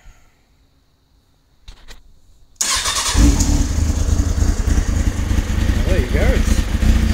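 A Kawasaki ZX-6R sportbike is started with the choke on: a brief crank catches and the engine settles into a loud, steady idle nearby while a voice speaks over it.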